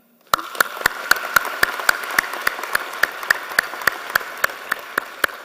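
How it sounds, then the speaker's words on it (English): Applause at a certificate ceremony, a sharp, regular clap repeating at an even steady pace close to the microphone over a softer wash of scattered clapping from the audience. "we can clap for them anyway"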